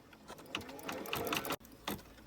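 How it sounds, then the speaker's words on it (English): Embroidery machine running a placement stitch for an in-the-hoop fabric bib, a rapid steady mechanical needle chatter, close and moderately quiet, with a brief dropout before resuming. "So we'll go ahead and run the placement stitch."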